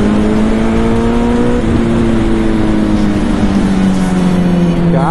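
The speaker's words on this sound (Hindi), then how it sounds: "क्या पटाखे फूटती है यार बाइक।" A Suzuki Hayabusa motorcycle runs hard at high speed, its engine and exhaust droning loudly and steadily as the pitch slides slightly downward, with wind rush and crackling pops from the exhaust.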